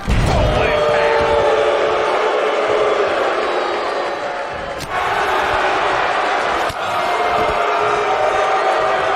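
Virtual arena crowd in the wrestling game WWE 2K19 roars and cheers continuously and loudly through the whole stretch, with a couple of brief sharp impacts cutting through the din.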